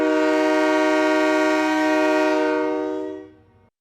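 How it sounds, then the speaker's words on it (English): A loud, sustained freight train horn sounds steadily as a single long blast for about three seconds, then fades out quickly. "Can you make a noise like a freight train?"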